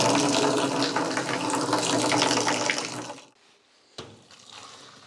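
Water for brewing vodka wort splashes and pours steadily over grain into a fermenter, a loud rushing flow that stops abruptly, followed by a single sharp clunk and quieter dripping.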